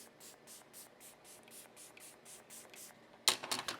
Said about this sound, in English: let's spray our face down with the Stay Put